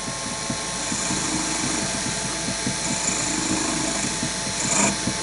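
A sharp chisel cuts a small chess king turning on a lathe, giving a steady, loud whirring hum with a gritty scraping texture throughout. Nobody speaks.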